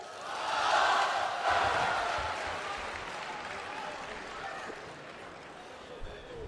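Audience applause for a crosstalk comedy duo taking the stage, a broad roar of clapping that swells early then settles into a sustained, slightly fading wash.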